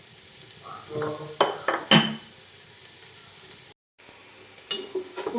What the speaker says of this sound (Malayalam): ഉള്ളിയും ക്യാരറ്റും നല്ലതുപോലെ വാടിക്കുന്നു കേട്ടോ